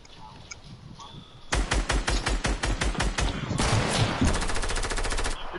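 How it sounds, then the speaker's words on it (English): Automatic weapon fire in Fortnite, a steady rhythmic stream of close, loud shots after a quiet opening, continuing in dense bursts to the end. "Jay, why are you shooting at me?"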